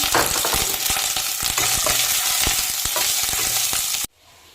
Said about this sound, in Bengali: নারকেল আর কাঁচা ছোলাটা ভালো করে লাল লাল করে ভেজে নিতে হবে